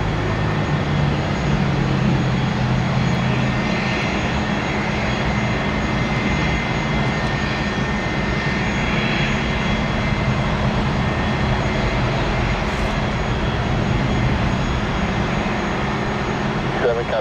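A jet aircraft roars on the runway at Tampa airport, a loud sustained engine rumble with a steady broadband hiss running unbroken for the whole stretch, no voices.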